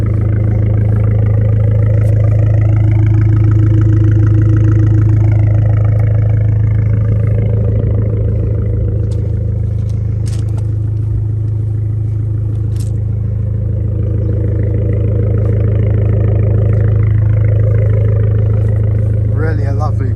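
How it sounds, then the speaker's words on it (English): A grey 2017 Abarth 595 three-door with a sports exhaust runs steadily close by, a deep, continuous engine drone holding an even pitch throughout with only slight swells in level. "You can hear that engine."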